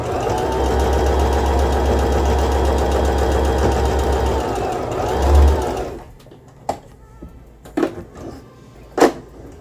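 A Singer M3220 sewing machine stitching linen runs in a loud, even motorized whir for about six seconds, close by, then stops, followed by a few scattered clicks and handling knocks.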